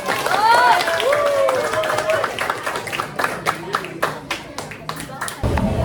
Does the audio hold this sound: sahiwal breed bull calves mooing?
no